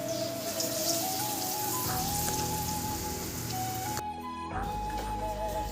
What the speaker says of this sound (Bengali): এক এক করে ভেজে নিচ্ছি